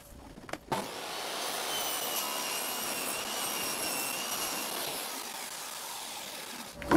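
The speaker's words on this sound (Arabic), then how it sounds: "انا قطعت حتة صغيرة عشان انا بخيل جدا في الخشب" A power saw cuts a small piece of wood in a workshop, a steady high-pitched whine that starts after a brief clunk and runs continuously for about six seconds before stopping.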